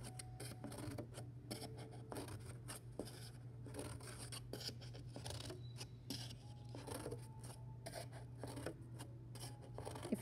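Scissors snip around the rim of a cardboard piece for a tree weaving craft, a steady series of quiet close cutting crunches and rasps with small pauses over a faint hum.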